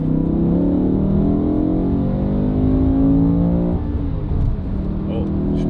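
A BMW E61 M5 V10 downshifts out of third gear and the engine drones loud and close, its pitch shifting with the revs, while a person talks over it throughout.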